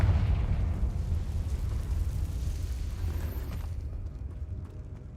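A deep, rumbling blast from a Confringo spell in Hogwarts Legacy rolls out loud and low, then slowly fades into a quieter tail.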